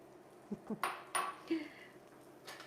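Sliced potatoes going into a frying pan for a Mediterranean omelette, a few light clinks and knocks against the pan spread over a couple of seconds, fairly quiet.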